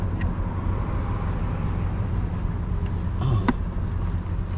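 A truck engine idles steadily with a dense low rumble throughout, a brief louder swell near the end, no talk over it.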